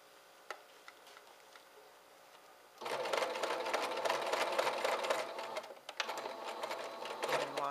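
A sewing machine runs a straight stitch to attach a ruffle to a pettiskirt, starting after a quiet moment with rapid, close mechanical ticking and whirring that pauses briefly and resumes.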